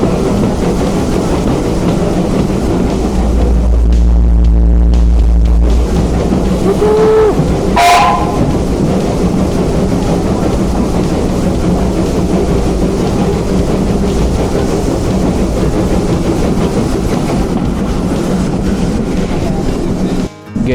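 A steam-powered train rumbles steadily and loudly nearby as it comes in and slows toward a stop, with a sharp whistle blast rising briefly early on over the constant rolling roar.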